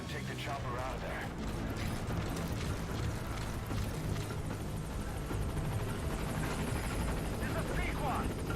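A helicopter in the Metal Gear Solid V video game gives a continuous loud rotor thrum and engine whine as it takes off from a landing zone, with voices speaking over the noise.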